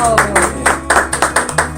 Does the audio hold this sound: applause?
yes